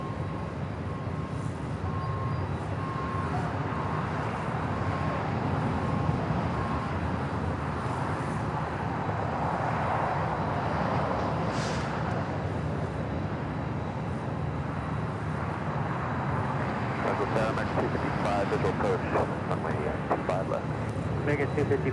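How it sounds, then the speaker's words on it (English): An Airbus A220-300 from Pittsburgh lands on the south side of Los Angeles International Airport, heard as a steady, broad engine roar at a distance, with a person talking over it much of the time. "Airbus A220-300 just landing here on the south side"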